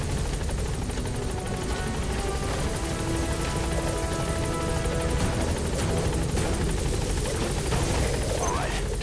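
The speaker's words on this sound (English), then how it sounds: "Get on the chopper." A helicopter in a stealth action video game hovers close for an extraction, its loud, steady rotor thump and engine whine filling the scene continuously, with no talk over it.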